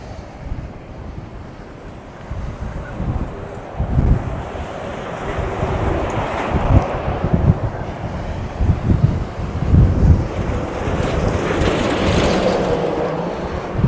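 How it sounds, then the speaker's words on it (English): Strong, rough wind on a stormy beach at Walcott: continuous roaring gusts buffeting the microphone, with surging surf mixed in, loud and close throughout, no talk. "the wind is really rough"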